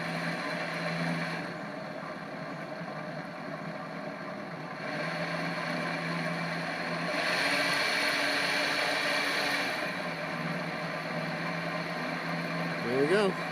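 A tree mill's spindle running at 500 RPM gives a steady, fairly quiet mechanical hum with faint tonal whine that swells slightly midway and continues without break.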